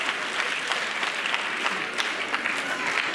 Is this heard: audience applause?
yes